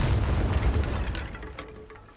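A Bombarda explosion spell booms in Hogwarts Legacy, a heavy low blast that rumbles loudly at first and then decays over about two seconds into fading debris crackle.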